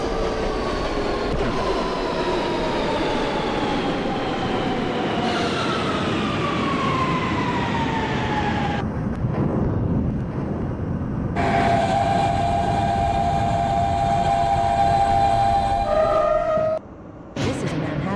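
An R160B Siemens subway train on a Manhattan-bound T local run in a simulator rumbles steadily, with a rising and falling motor whine, a short quiet gap, then the whine returning and stopping near the end.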